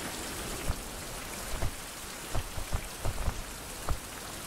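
Rain falls steadily in a survival video game set at the Fountain of Youth, with scattered drop impacts on surfaces over a constant wash and no clear thunder, heard alone.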